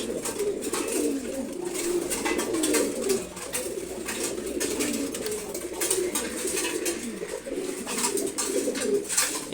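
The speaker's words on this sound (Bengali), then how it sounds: "খাকি কবুতর" Khaki pigeons cooing softly while they eat, a low rolling coo repeated throughout beneath scattered pecking and shuffling sounds, fairly close and continuous.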